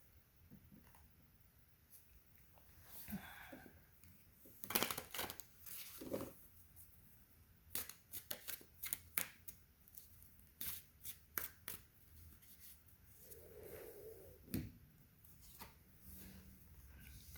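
Tarot cards shuffled and drawn by hand, a long run of soft riffling and flicking bursts, close and fairly quiet, with scattered brief slaps of cards being laid down.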